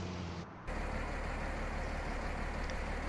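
An articulated tractor's engine in the farming video game Midwest Horizons drones steadily at idle, a constant low rumble that briefly dips near the start before settling into an even, unbroken hum.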